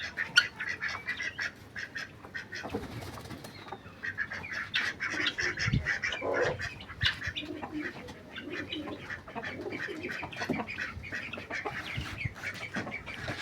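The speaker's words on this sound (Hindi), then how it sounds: "तो हमारी छोटी डक्स बड़ी हो गई है माशाल्लाह से।" A group of young ducks quack continuously at close range in a farmyard setting, with other poultry calls mixed in throughout.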